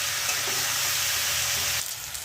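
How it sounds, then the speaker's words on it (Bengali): Sautéing with onion stalks in a pan gives a steady, close frying sizzle and hiss, with faint stirring underneath, that drops slightly near the end; no one speaks. "একটু সময় পেঁয়াজ কলির সাথে সাঁতলে নেব।"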